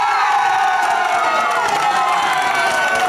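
A large crowd at a pony event cheers and claps for children continuously, a loud, dense wash of voices and applause with no pauses.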